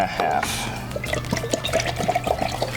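Simple syrup poured from a container into a large Mai Tai batch, a close liquid pouring and dripping sound with a splashy start, while people talk over it.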